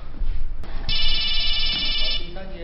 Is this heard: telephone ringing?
yes